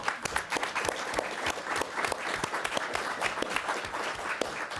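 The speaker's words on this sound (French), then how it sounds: "J'aimerais que nous, avant de poursuivre, les applaudissions tous très chaleureusement." An audience at a talk on European political integration claps warmly, a sustained patter of many hands with individual claps standing out, steady and moderately loud from start to finish.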